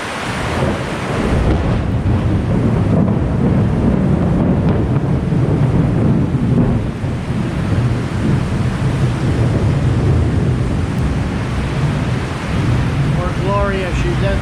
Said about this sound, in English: Poor Gloria, she's deathly afraid of the lightning and thunder.